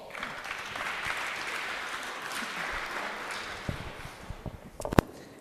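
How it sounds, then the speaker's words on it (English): Steady applause from a conference audience fills the whole stretch, dense and even, with a few louder claps standing out near the end. "warm applause."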